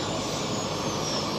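Giant scale radio-controlled model aeroplane flown at a display event, its engine giving a steady, loud, continuous drone as it passes close by, with no talk over it.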